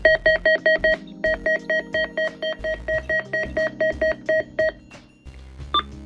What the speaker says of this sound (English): there's another type of button beep that I've left out